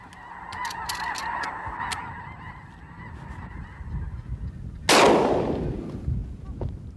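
Several snow geese honk loudly in a cluster, followed by a sharp hunter's gunshot that echoes and fades, with scattered faint honks afterward.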